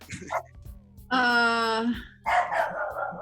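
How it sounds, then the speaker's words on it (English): A dog barks in a couple of distinct, fairly close bursts, with a sustained yelping bark in the middle. "now my dog is barking"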